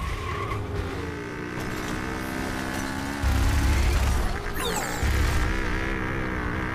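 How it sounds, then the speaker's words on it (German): A car in the video game Overwatch drives past with a steady engine drone and a sharp tire squeal, rising in loudness midway as it draws near, layered over ongoing game sounds. "Was ist denn da für ein Auto oder sowas unterwegs?"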